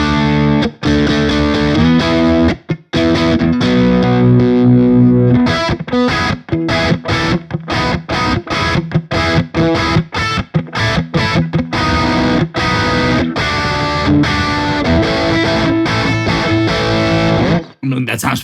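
An electric guitar played through a Polychrome DSP Nunchuck amp simulator, turned up, rings out loud with distorted chords and picked notes in a continuous, dense passage, with brief gaps.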